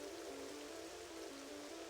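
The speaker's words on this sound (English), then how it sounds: "it's also cloudy out with a full-on blown rain" Steady, soft rain falling in Zelda: Twilight Princess HD, a continuous hiss of drops on surfaces with a faint tonal hum beneath, quiet and unbroken for the full two seconds.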